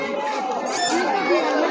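Busy crowd at a packed fair near the Nepal–India road, many voices chattering together in a dense, continuous murmur that stays close and steady throughout.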